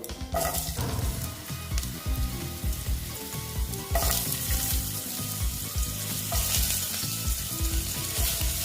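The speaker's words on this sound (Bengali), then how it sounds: "আলুগুলো দিয়ে আলুগুলো ভেজে নিচ্ছি" Potatoes fry in hot oil with panch phoron, giving a loud, steady sizzle and crackle with scraping spoon strokes throughout. A sharp burst of fresh sizzling comes about midway.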